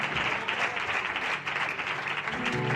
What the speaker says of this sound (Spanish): Un aplauso fuerte para el Señor.